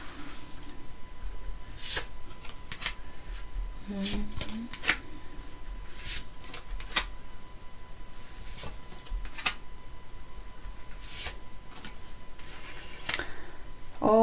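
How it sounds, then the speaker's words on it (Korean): Tarot cards being shuffled and drawn, a run of crisp light taps and flicks spread across the stretch, with a brief murmur of speech partway through. "카드를 뽑아보도록 하겠습니다"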